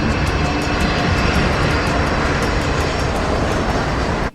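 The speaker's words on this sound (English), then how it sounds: "disengaged the auto throttles, and brought the plane in for a safe landing" An airliner's engines give a loud, steady broadband roar as the plane comes in to land, holding constant for about four seconds before cutting off abruptly.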